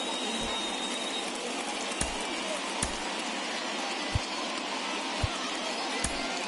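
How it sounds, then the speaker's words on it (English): Steady rain falls during a rain delay at a baseball game in MLB The Show 21, a continuous broadband hiss with a few faint low thumps scattered through it, with no voices. "It looks like this rain is going to be around for a while."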